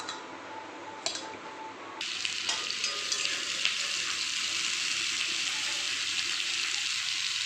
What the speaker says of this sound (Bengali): এবার ফুলকপি আলু দিয়ে দেবো